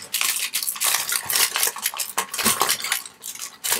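A cured resin doily coaster being peeled off a sheet of foil: dense, continuous crackling and crinkling, close and fairly loud, with brief dips between the louder bursts.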